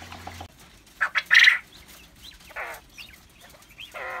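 Small quails kept with automatic water cups give a few short chirps and calls close by, with one louder burst of calling near the start and quieter scattered peeps afterward.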